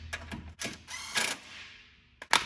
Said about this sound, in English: put your bolt back into this bracket, tighten that one down in place